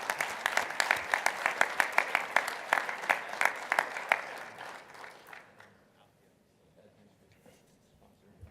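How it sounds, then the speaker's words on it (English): Conference general session audience applauds bronze sponsors with a burst of individual claps, rhythmic and fairly close, thinning out after about five seconds into scattered faint claps and room quiet. "if we could all give the bronze sponsors a round of applause"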